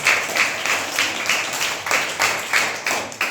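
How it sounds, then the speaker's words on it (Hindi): A classroom of students claps together in a quick, steady rhythm, about ten sharp, even claps in a row, close and clear. "ताली बजाइए एक बार"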